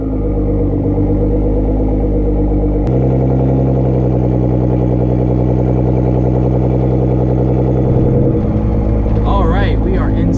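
A Nissan GT-R R35 pulls away with a steady, loud engine drone and strong low rumble that deepens after a few seconds, then shifts late on as voices talk over it.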